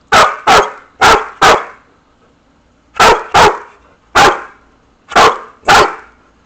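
A female dog barks on command in an obedience drill, loud close barks in pairs with a lone bark between, separated by short pauses and with no talking over them.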